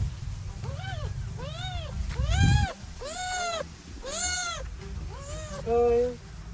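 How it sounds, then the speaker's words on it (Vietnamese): A cat gives a series of about eight drawn-out meows in a steady sequence, each rising and falling, close and fairly loud, with brief talk and rustling underneath near the start. "sao còn mèo đây?"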